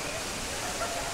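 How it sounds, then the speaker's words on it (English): Water rains down from the ceiling inside a shopping mall, a dense, even hiss like a small waterfall, heard close and continuous. "It is just like a water is raining from the ceiling."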